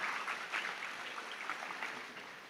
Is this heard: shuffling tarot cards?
no